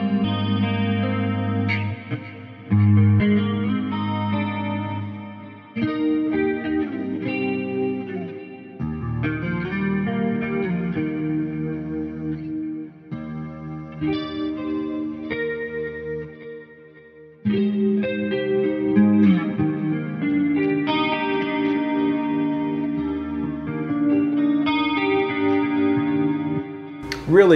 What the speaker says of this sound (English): on the front end we're using compression and a little bit of chorus to get this effect